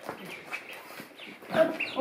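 Small ducklings peep faintly and briefly indoors while a person talks over them.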